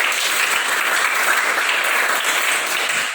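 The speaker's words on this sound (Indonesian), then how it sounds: "Tepuk tangan dulu ya." A group applauding at a meeting, a dense, even round of clapping held at steady loudness for several seconds, with no talk over it.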